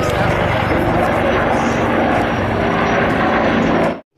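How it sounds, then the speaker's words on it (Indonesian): A combat helicopter flies overhead with a loud, dense, steady roar of engine and rotor noise that fills the clip, then stops abruptly. "ada helikopter tempur"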